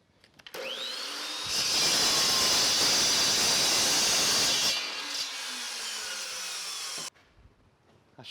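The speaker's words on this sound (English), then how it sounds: "all of this flat stock that I'm cutting, this is 3/8 inch thick, 2 inches wide" A power saw cuts through 3/8 inch thick, 2 inch wide steel flat stock, a steady broadband whine that swells louder mid-cut for a few seconds and then settles back before stopping abruptly.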